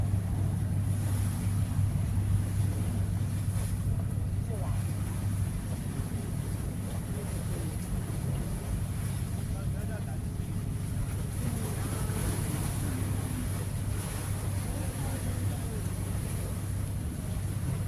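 Steady roar of wind and breaking sea waves fills the scene, with faint voices now and then in the background.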